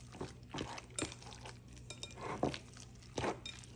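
Meatball mixture for chicken parm meatballs being mixed by hand in a bowl, with soft squishy kneading and repeated light clinks against the bowl in an uneven rhythm, close and fairly quiet.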